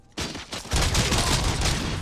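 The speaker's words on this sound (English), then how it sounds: "I shot you in the face and you died" Dense gunfire from the video game RoboCop Rogue City, a short burst followed by sustained rapid shots at close range, loud and continuous with no talking.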